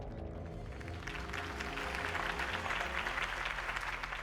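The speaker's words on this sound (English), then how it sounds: "If only Mr. Wayne, my campaign's largest backer, could have heard that applause" Crowd applause rises after a campaign speech in the video game Batman: The Telltale Series, a broad wash of clapping that swells after the first second and holds steady over a low musical score.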